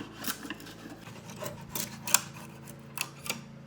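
Chisel carving a clean channel in wood for a large illuminated whiteboard build, giving soft scraping and rasping strokes with a few sharper cuts, close and moderately quiet, with no talking.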